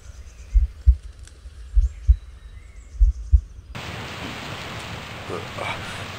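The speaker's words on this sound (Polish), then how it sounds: "czemu padę deszcz?" Rain sets in partway through as a steady, broad hiss of falling drops, following a stretch of soft, low, irregular thumps near the start.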